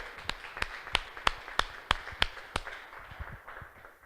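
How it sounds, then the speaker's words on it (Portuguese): A church congregation claps in a slow, regular rhythm, about eight crisp, evenly spaced claps ringing out clearly before the pattern breaks into softer, scattered patting that fades. "Uma salva de palmas ao Senhor."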